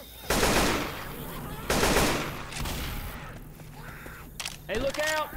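Bursts of rapid automatic gunfire in Left 4 Dead 2 come in two loud volleys, followed by quieter mechanical clicks and a character shouting.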